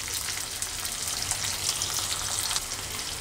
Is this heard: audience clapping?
no